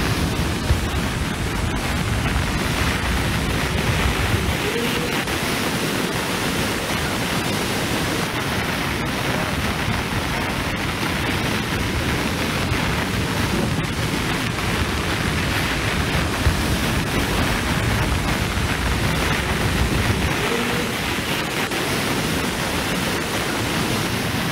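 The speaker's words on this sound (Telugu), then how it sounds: "ప్రాజెక్టు 4 గేట్లు ఎత్తి దిగువకు నీటిని విడుదల చేస్తున్నారు" Floodwater from heavy rains pours out through four raised gates of the Sathnala project in Adilabad district, making a loud, continuous rushing roar that stays steady throughout with no voices.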